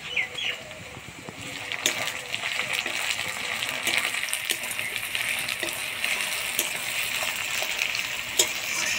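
Chopped tomatoes dropped into a pan of onions fried until reddish, then stirred, while cooking a country chicken curry with potatoes; a steady sizzle and frying hiss with scattered clinks and scrapes of a spoon, under faint background sound.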